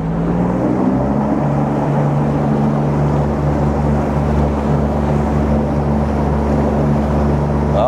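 A homemade motorboat engine runs steadily at higher throttle, giving a loud, continuous droning hum with a low tonal whine and water wash, close and unbroken throughout.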